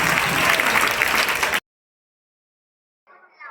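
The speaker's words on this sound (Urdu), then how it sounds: "آپ تمام کی زوردار تالیوں کے لیے الفاظ" An audience breaks into loud applause at an event, a dense burst of clapping that cuts off abruptly after about a second and a half, followed by silence and a faint trace of sound near the end.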